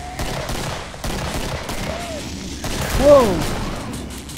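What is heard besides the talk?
gunfire in the video game Killing Floor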